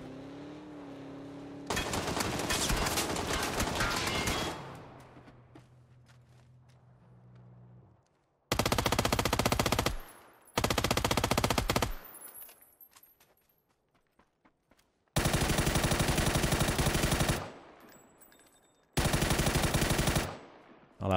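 Bursts of automatic gunfire in the PUBG video game, several loud sustained volleys of rapid shots separated by pauses, with quieter rumbling between them and no talking.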